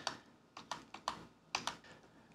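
Arrow keys pressed on a computer keyboard, a series of crisp, separate clicks in an uneven rhythm, about eight presses close to the mic with quiet gaps between them and no voices.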